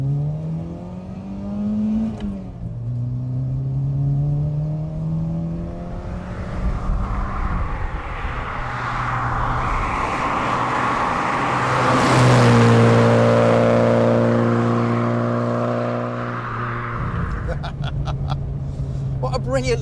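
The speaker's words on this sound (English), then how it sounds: "So let's just take it through the gears again." A 1992 VW Scirocco Mk2 GT2 accelerates through the gears, engine note rising in pitch, dropping at each shift and climbing again, close and loud inside the cabin while someone talks over it.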